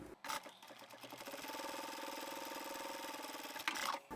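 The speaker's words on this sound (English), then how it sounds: "I'm going to stitch along the other side." A sewing machine stitches the seam of a fabric tube for a lined cross-body satchel, a steady close mechanical whir with rapid needle ticking that runs evenly after a brief start.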